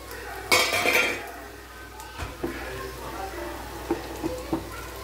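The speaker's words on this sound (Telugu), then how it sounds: "సో ఇప్పుడు మనం ఫ్రై చేసుకున్న దమ్ ఆలుని దీంట్లో వేసేయాలి మంచిగా." Fried baby potatoes tip into a pan of dum aloo curry with a loud clattering rush, then lighter scrapes and clinks of a spoon against the pan over a soft sizzle, with a voice talking intermittently.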